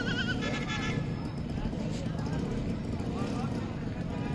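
Goats and kids bleat at a Lahore livestock market, a few short cries early on over a busy background of people talking and crowd noise.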